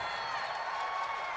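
A dense, continuous roar of a large distant stadium crowd at a Los Angeles Rams vs. New York Jets NFL game, steady and unbroken, with a faint ringing tone running through it.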